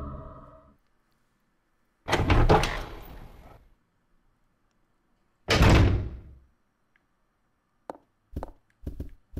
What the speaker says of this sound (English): We got a door right here. Yeah, let's, let's enter this door, why not?